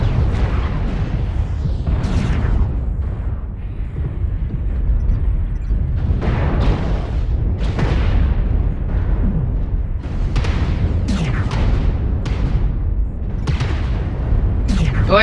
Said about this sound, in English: UAVs and airstrikes, man.